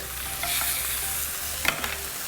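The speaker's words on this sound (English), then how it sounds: "when you cook meats like this, steak, whatever, the pan needs to be smoking hot" Pork neck sizzles in a smoking hot pan, a steady crackling hiss with a few sharper spits and pops, close and continuous with no talking.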